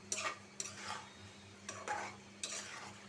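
Onion and potato pieces are stirred and fried in a pan, with a soft background sizzle broken by several sharp scrapes and clinks of a utensil against the pan, fairly quiet and close, with no voices.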